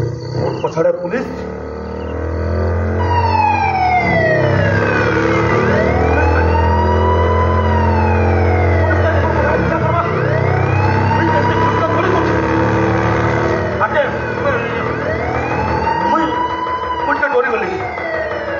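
A police siren wails loudly behind a moving scooter, its rising and falling tone sweeping in repeated cycles over the roar of engine and wind, with someone talking throughout.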